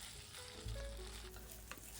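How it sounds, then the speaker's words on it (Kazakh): Rice sizzles in a hot pan while being stirred and fried for a Thai-style meat dish, a steady close crackle with a few scraping stirs of the utensil, and no talking. "Күрішімізді осылайша араластыра отырып қуырамыз."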